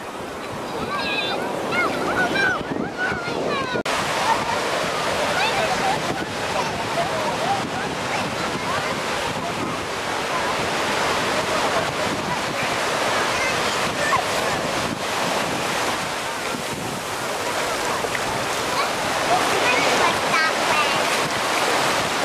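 Ocean waves breaking at Santa Monica Beach, a continuous loud roar of surf rolling in close by, with wind buffeting the microphone and people talking now and then.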